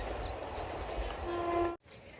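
A train rolls past through paddy fields with a steady broad rumble and a short horn note, loud and close, then cuts off abruptly near the end, leaving quieter background.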